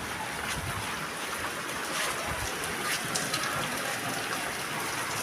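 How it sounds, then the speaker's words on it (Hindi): Light rain falls steadily outside a home near a gate, a constant close hiss of drops with scattered patters on surfaces and no talking. "बारिश जो है वो शुरू हो गई।"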